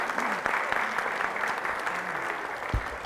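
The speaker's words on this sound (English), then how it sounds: "Let's give you both just a big round of applause." A crowd at a Petoskey Chamber of Commerce state of the community event claps steadily and fairly close throughout, with a thump near the end.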